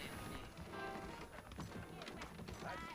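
Horses from the Red Dead Redemption video game clop their hooves and whinny in a saloon setting, set against steady, dense game music and ambient noise that never lets up.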